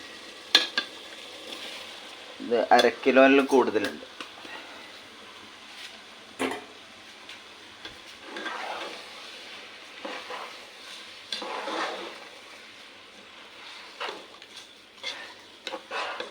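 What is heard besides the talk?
soaked rice frying and being stirred in masala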